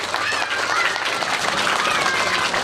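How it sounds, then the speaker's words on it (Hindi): Brief burst of dense clapping from a gathered crowd at the inauguration of a constitution education centre, steady and fairly close throughout. "इनके लिए एक जोरदार ताली"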